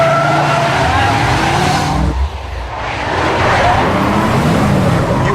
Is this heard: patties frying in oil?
no